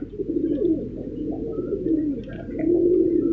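A pair of fancy pigeons, male and female, coo steadily at close range with a continuous, throaty burbling that swells slightly toward the end, with no talking.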